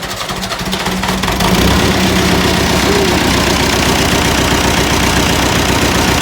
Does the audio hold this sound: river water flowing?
no